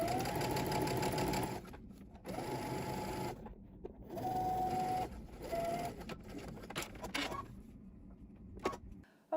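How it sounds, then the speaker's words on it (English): A domestic sewing machine stitches close to a turned-under fabric edge in several bursts of rapid, steady whirring, separated by short pauses, close and clear with no talk. "now that it's pressed to the inside at the sewing machine, I'm gonna turn under that 1/4 inch and we're gonna stitch very close to that edge"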